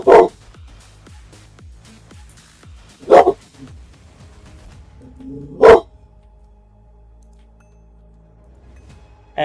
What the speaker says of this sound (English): I tell him to calm down, he barks louder.